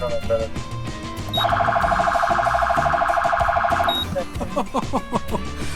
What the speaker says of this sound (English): This one is called the phaser.